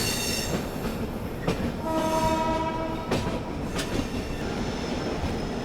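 The 14005 Lichchavi Express pulls into Anand Vihar Terminal with a loud, steady rumble of rolling cars. A horn sounds near the middle, and a few sharp wheel clacks and squeals come through.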